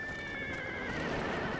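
A horse companion in the video game Metal Gear Solid V: The Phantom Pain lets out a clear, wavering whinny alone over steady game ambience, with a few soft hoof clops.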